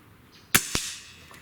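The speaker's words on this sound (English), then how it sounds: "It happens sometimes that lead just splatters when it hits those hard targets." A .22 pellet from a Gamo Magnum break-barrel air rifle strikes a solid steel target: a sharp, close metallic smack followed moments later by a second lighter ping, then quiet ringing decay.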